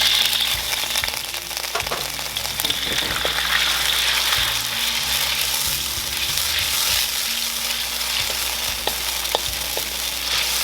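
White wine poured into a hot pan of crawfish, setting off a loud, continuous sizzle and bubbling hiss with crackles and occasional stirring clatter, close up and unbroken throughout.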